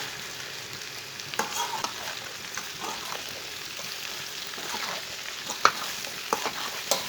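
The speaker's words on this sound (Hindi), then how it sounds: "अच्छी तरह मिक्स करके इसे 3-4 मिनट के लिए ऐसे ही भून लेंगे, चम्मच चलाते हुए।" Okra with coriander seeds and green and red chillies is stir-fried in a pan, soft continuous sizzling broken by scraping spoon strokes and occasional clinks.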